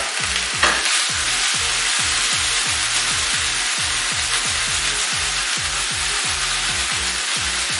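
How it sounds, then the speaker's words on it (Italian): Pasta and eggplant tossed in a frying pan with parsley and garlic, giving a steady sizzle under a fast, regular scraping and rubbing rhythm of many quick strokes, close and fairly loud. "scolare la pasta e l'aggiungiamo in padella"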